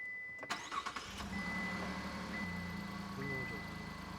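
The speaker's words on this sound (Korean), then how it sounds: "한 방에 스타팅이 됩니다." Chevrolet Colorado pickup engine cranking and catching on the first try, settling into a steady low idle with faint mid-range whine, close by, with brief talk at the start.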